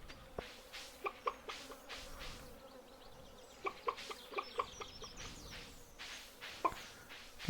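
Farm chickens cluck in Stardew Valley, with short, faint clucks in small clusters and pauses between them, over a soft buzzing insect-like background.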